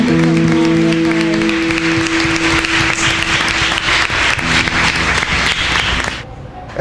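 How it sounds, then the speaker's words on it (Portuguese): Loud, steady applause from a church congregation during an evening worship service, sustained for several seconds with music tones beneath, then cutting off abruptly. "Aplauda o Senhor nessa noite porque Ele é digno."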